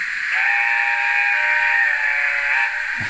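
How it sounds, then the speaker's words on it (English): Steam locomotive whistle of an A4 class engine produced by a Hornby HM7000 DCC sound decoder in a model railway, a single sustained, loud chime-like whistle lasting under three seconds with no talk. "That's definitely an A4 whistle."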